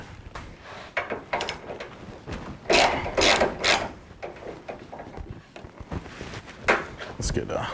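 Ratchet wrench working a 13 mm bolt on a truck tailgate, giving irregular bursts of clicking and metallic handling noises up close, with a person talking in between.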